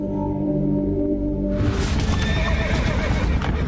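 Horses whinny loudly and hooves clip-clop close by, with a sustained neigh carrying over a low musical drone before the hoofbeats and snorting take over.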